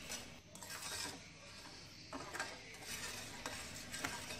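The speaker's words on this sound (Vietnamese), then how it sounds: "Mình vừa nấu mình vừa khuấy để cho phần đường nó tan ra" A spoon stirs sugar in a pot, dissolving it into a fish sauce syrup for pork, making rhythmic scraping strokes against the pot that are soft and steady, with no voices.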